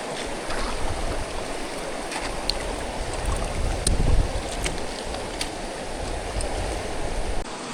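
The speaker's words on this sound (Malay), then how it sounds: "Kalau tengokkan arus boleh tahan kuat ni." A strong river current rushes steadily during a jungle river crossing on a mountain trek, a broad loud wash of flowing water with some wind buffeting and a few faint knocks.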